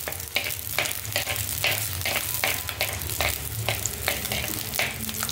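Small shallots hiss and sizzle in hot oil while being stirred in a pan for a crab curry, a steady dense frying noise with scraping stirs throughout, close and continuous.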